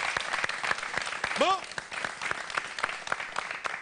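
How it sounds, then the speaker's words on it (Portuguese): Audience applause at a television show, a dense stream of clapping for several seconds, with a presenter's voice talking over it and a brief whoop rising mid-way. "Uma salva de palmas, faz favor."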